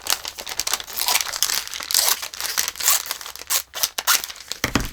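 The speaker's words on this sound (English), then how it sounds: "And we'll cut it off right here." Scissors cut close by with rapid, crisp snips mixed with dense crinkling of the material, continuing unevenly throughout without talk.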